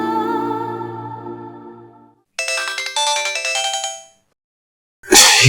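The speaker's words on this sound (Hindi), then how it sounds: "ये किसका फोन आ गया?" A mobile phone ringtone rings out loud and alone in an indoor drama scene, a sustained melodic tone followed after a short gap by a brighter rapid chiming burst, then a brief pause before another noise.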